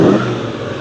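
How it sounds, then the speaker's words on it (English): A supercharged LSA V8 in a drift car running E85 revs on a dyno, a short loud blast of engine roar that eases off slightly across the burst. "He's just making sure that it's good as far as idling and giving it some revs"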